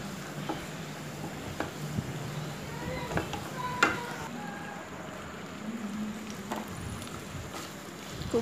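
Kothu parotta ingredients sizzle in a pan while being stirred, a low, steady frying hiss broken by scattered scrapes and clicks of the spatula throughout.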